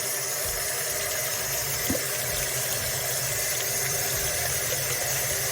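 Steady broadband rush of cold tap water running over dumplings being rinsed for Jamaican festival, a continuous even hiss with a low hum beneath, no voices.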